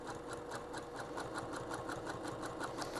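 A sewing machine runs a fast, steady stitch along belting for a wrap skirt, with an even rapid mechanical chatter close by and no talking.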